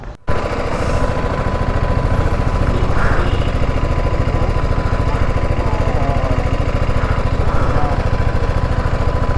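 A BMW G310 GS single-cylinder motorcycle engine runs steadily and close by for the whole stretch, a loud continuous rumbling drone that kicks in abruptly at the start and holds without a break.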